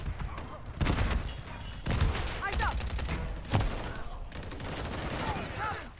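Rapid bursts of gunfire in Call of Duty, dense crackling volleys rolling over one another with a few heavier booms, loud and close, under an excited voice.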